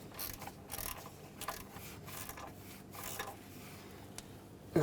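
A ratchet tightens the mounting nut on a Ford F-250 glow plug control module, giving faint, quick clicking strokes in short, irregular bursts in a quiet garage with no talking.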